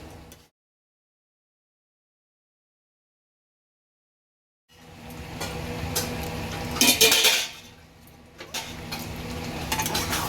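Lid set onto a pot of Bengali kosha mutton cooking in a kitchen: a sharp metallic clink and rattle after a stretch of silence, followed by soft cooking noise and small utensil sounds.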